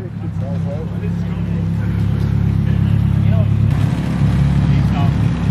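A small, partly stripped-out car with a Mitsubishi 4G69 2.4-litre engine, idling and running close by with a loud, steady, rough low drone that stays constant while people talk over it.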